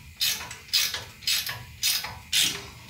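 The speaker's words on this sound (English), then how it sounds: "18 millimeter wrench. I'm gonna start loosening this upper control arm just like we did the other one." An 18 mm wrench loosens the upper control arm bolt on a 2011 GMC Sierra 1500 truck, giving five evenly spaced bursts of bright ratcheting clicks up close, each about half a second long with short pauses between.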